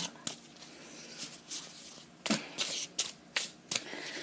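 Tarot cards are shuffled in quick, crisp riffling bursts, repeated several times with short pauses between, close and fairly quiet.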